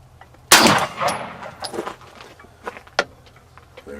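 A Sig Sauer P210 pistol fires a single 124 grain Remington UMC round at an outdoor range, a sharp loud crack followed by a short echoing decay and some faint clatter.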